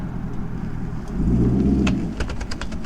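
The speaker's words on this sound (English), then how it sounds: "You hear those tires skipping?" A lowered C7 Corvette Grand Sport's engine rumbles and surges, followed by a quick series of sharp chirping skips from tires on pavement, with slight scraping.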